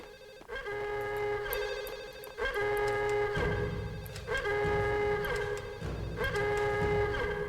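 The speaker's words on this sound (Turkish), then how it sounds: "Bak içeride telefon falan çalıyor." A telephone rings inside a building in the video game Max Payne, repeated trilling bell bursts with short gaps between them, clear and fairly loud over a low background hum.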